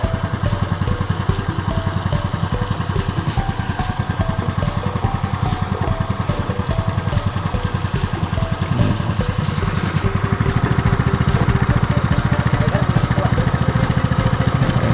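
A sand suction pump engine runs steadily at close range, a loud, even mechanical chug with rapid rhythmic pulsing that grows slightly fuller partway through, with no talking over it.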